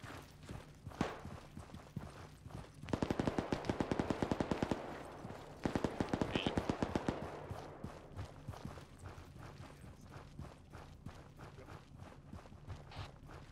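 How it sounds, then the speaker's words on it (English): Two long bursts of rapid automatic machine-gun fire with tracers in the military shooter ARMA 3, sharp rattling volleys separated by quieter movement and scattered single shots, close and loud. "Shooting tracers."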